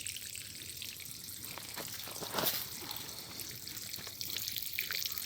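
Water runs from a pressure-compensating drip emitter in a steady trickle with faint splashing and dripping, continuous and close, with no voices.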